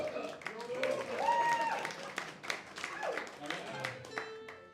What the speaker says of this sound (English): round of applause for Almeida in the back